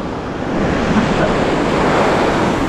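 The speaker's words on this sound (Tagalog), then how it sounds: "Malakas ng alon, no?" Loud, continuous roar of heavy surf breaking on a beach at Patar Beach, Bolinao, Pangasinan, mixed with wind buffeting the microphone, no pauses in the wash.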